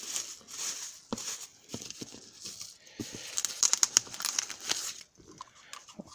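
Paper packaging crinkles and tears while a SunSDR2 DX radio is unboxed by one hand, with irregular close rustles and crackles, some sharper snaps, fairly quiet, with no talking.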